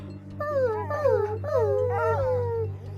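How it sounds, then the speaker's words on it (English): Several caged dogs whine and whimper in long, high, sliding cries that rise and fall in overlapping bursts over a steady low hum. "the other dogs whined and pawed at their locked cages"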